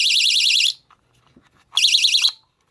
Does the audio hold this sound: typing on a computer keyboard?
no